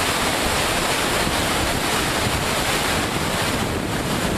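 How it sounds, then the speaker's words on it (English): Floodwater at Nynehead roars over a weir, a loud, dense, unbroken rush of pouring water with wind buffeting the microphone throughout and no voices. "Thousands and thousands of gallons of water pouring down here."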